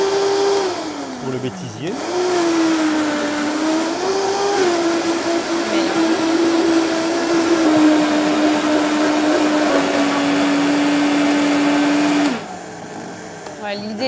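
A food processor blends hummus in a loud, steady whir whose pitch dips and wavers early on, running for about twelve seconds before cutting off; a voice speaks briefly in French.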